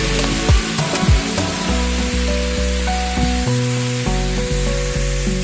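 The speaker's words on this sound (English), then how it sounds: "Right now we're just browning" Brussels sprouts browning in a hot pan give off a steady, close, broadband sizzle and hiss, with a few brief clinks near the start and a continuous tone running underneath, and no talking.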